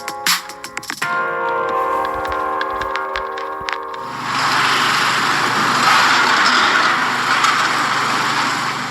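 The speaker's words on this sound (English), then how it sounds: "That was the sound of a demolition job at the White House." Demolition work on the East Wing of the White House opens with squealing, grinding metallic tones and knocks, then gives way to a steady broadband roar of heavy machinery and debris, moderately loud and continuous.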